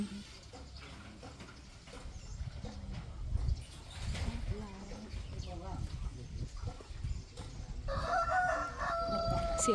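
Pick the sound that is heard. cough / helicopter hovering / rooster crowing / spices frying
rooster crowing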